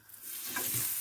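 Butter sizzles in a hot frying pan, a close, soft crackling hiss that swells slightly over a brief moment.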